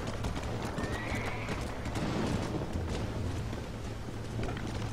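Horse hooves clip-clop steadily at a ranch in the Red Dead Redemption video game, while a horse neighs, all against a constant busy background wash.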